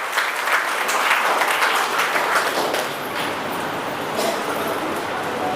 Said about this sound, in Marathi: सर्व सत्कार मूर्तींसाठी एकदा आपण जोरदार टाळ्या वाजवूया